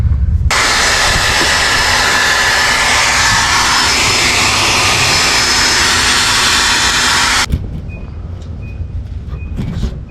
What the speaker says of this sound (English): I'm going to take the blow dryer and I'm going to heat up the spot that we're going to put it on